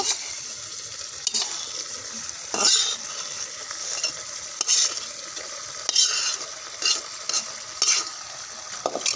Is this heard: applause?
no